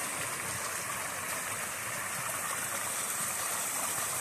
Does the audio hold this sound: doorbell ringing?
no